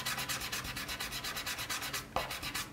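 A dishwashing sponge rubs charcoal shading onto drawing paper in quick, even back-and-forth strokes, close and soft, with a rhythmic scratchy texture and one brief tap near the end and no voices.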